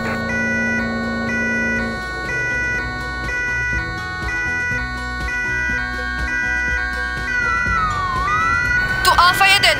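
A cartoon fire engine siren plays as a repeating two-tone wail mixed into upbeat music, ending with brief rising swoops.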